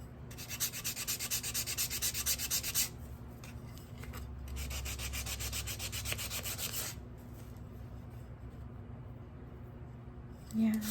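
Abrasive sanding on a resin terrazzo tray, two long bursts of steady scratchy rubbing, then quieter, softer strokes, close by with no talking.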